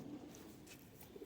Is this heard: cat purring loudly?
no